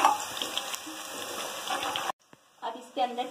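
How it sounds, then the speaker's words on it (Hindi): Garlic frying in a pan with onions, a soft steady sizzle with stirring that cuts out abruptly, then quieter clatter returns; low level and close. "1-2 मिनट लहसुन को इसमें फ्राई करेंगे।"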